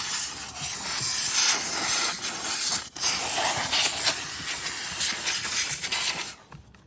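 A steam cleaner steaming a car's dashboard area gives a steady, loud hiss, blowing continuously for several seconds with brief dips, cutting off near the end, no voices.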